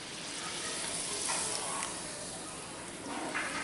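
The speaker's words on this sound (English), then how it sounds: "this started frying properly" A French fry sizzles in hot oil with a soft, continuous hiss and faint crackles, quiet and steady with no voices.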